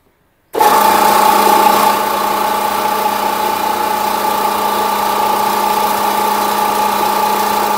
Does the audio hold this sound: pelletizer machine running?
yes